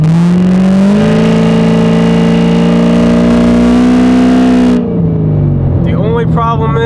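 A Z06 sports car engine holds a loud, steady rev, its tone climbing slightly before dropping and settling back toward idle near the end. Voices can be heard alongside the engine.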